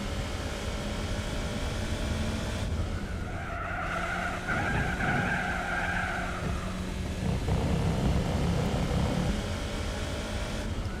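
Car tyres skid through a long, big slide in the Gran Turismo 4 racing game, a loud sustained screech over the steady drone of the engine, lasting several seconds without a break.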